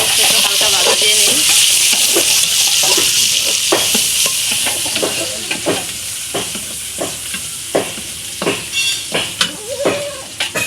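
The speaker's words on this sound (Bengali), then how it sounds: "পেঁয়াজটা একটু হালকা ভাজা দিয়ে নিই।" Chopped onion fries lightly in a pan before going into dal, giving a loud, close sizzle with repeated scraping stirs that turn into sharp, rhythmic strokes toward the end.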